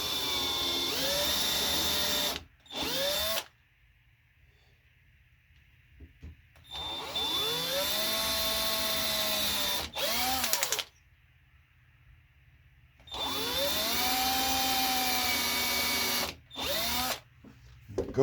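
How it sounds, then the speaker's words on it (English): Drilling holes into a guitar headstock in three long bursts separated by short pauses, each with a whining tone that rises and falls as the bit works through the material, loud and close. "Now I can drill the holes into the actual headstock."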